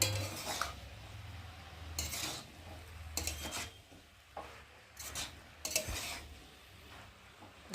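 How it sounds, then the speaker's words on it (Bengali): A spoon scraping and clanking against a pan as fried prawns are stirred into a spinach curry, several distinct close strokes spaced a second or so apart over a low simmering background. "দিয়ে একটু ভালো করে নেড়ে দেবো।"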